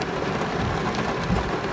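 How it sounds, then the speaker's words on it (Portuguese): Steady, dense hiss of rain falling close by, even and continuous throughout with no voices. "Olha a chuva."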